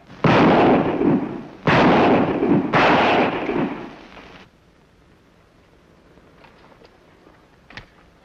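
Blank cartridges fired in a Western radio drama: three loud, booming shots about a second and a half apart, each ringing out before fading, followed by near silence with a faint click.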